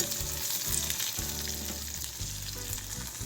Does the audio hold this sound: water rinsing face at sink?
no